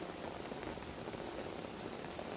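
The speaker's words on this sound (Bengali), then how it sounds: "কি ভাল লাগছে না দেখো বৃষ্টি দেখতে" Sudden midday rain falling steadily around a home yard where water has pooled, a soft, even, continuous patter heard faintly at a distance.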